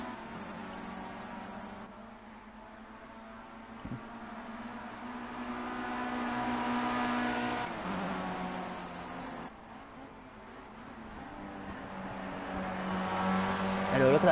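Race cars in a Formula Guf race at Cadwell Park rise and fall in engine drone as they pass, a moderate, distant-to-near sweep of several cars, with a commentator talking over it.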